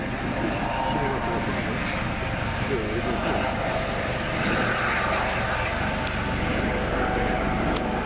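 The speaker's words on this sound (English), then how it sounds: "That is our Coast Guard helicopter. He does a flyby." A steady roar of a Coast Guard helicopter passing by, continuous and fairly loud throughout, with a voice speaking over it at times.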